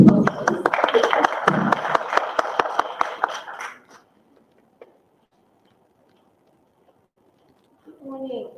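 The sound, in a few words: audience applause welcoming a speaker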